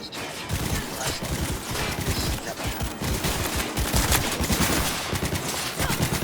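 Dense automatic gunfire in the video game Cyberpunk 2077, a near-continuous fusillade of rapid cracks and bursts that runs loud and unbroken for several seconds.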